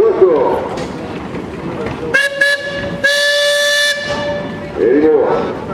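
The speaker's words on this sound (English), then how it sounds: "Louie, you got a whistle?" A steam yard engine's whistle blows in two short toots, then one long sustained blast, loud and close, with crowd chatter before and after, at a steam threshers show.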